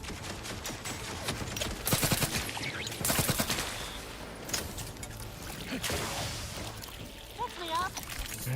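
Automated turret gunfire in the Outer Worlds 2 video game, several bursts of rapid shots in clusters over a busy background of game effects, with a player talking in between.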